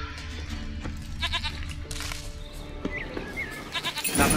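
A goat bleats in The Witcher 3 game, a few short calls over layered in-game ambience and rustling, with a louder burst near the end.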